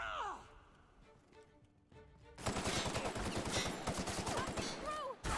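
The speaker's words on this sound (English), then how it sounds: "they are now shooting at me" Enemies fire on the player in the video game The Outer Worlds, a dense burst of rapid automatic gunshots that erupts loudly after a quieter stretch and keeps going, with a voice briefly heard over the fire.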